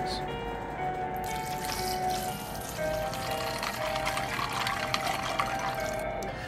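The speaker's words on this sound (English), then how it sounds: "Then we switch it up to medium heat when it starts bubbling." Eggs boiling in a pot of water on medium heat for a Japanese egg sandwich, giving a steady, close bubbling and churning wash that runs unbroken throughout.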